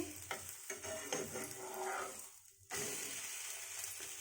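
A roti made with milk and butter sizzles softly in a pan after being flipped, with faint scraping and a steady frying hiss that grows brighter near the end.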